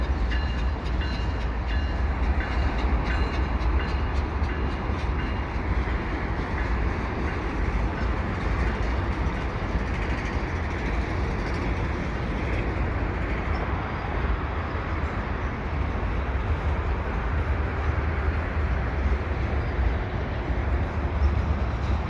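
A CPKC diesel freight train rumbles past steadily nearby at Lachine, its engine throbbing under a continuous clatter of wheels, with no voices.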